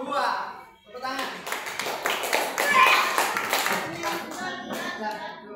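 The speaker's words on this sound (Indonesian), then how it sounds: "Hasil kelompok 2. Tepuk tangan." Students in a classroom clap for a presenting group, an uneven burst of close handclaps of varying intensity with voices talking through it.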